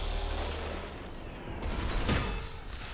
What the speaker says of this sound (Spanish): Disparo del segador.